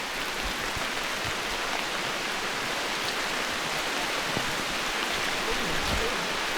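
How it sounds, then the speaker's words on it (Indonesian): Rain falls steadily on a mountain trail near the peak, a continuous broadband hiss that is fairly loud and even throughout, with no voices over it. "Wah, hujan."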